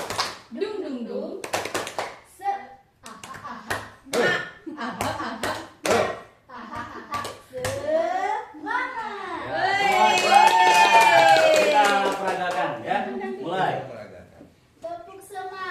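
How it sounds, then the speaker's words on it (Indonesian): Schoolchildren at an elementary school do a rhythmic clapping ice-breaker, with sharp group claps in a beat and many voices chanting the rhythm aloud, building to a loud crowd chant. "Yuk, tepuk semangat."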